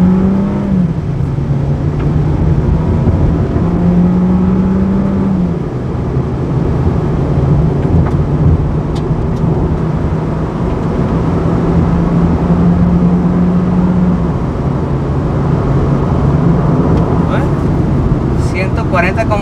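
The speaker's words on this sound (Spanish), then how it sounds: "Vamos a acelerar tantito para que puedan ver cómo se desempeña este Jetta." A Volkswagen Jetta engine drones steadily while accelerating on the road, its low tone stepping up and down with gear changes over about twenty seconds.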